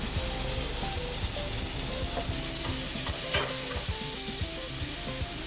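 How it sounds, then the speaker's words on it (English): Zucchini hits a hot pan and fries with a dense, constant sizzle, close and loud, with occasional stirring clicks. "With the pan still hot, we're going to throw in our zucchinis."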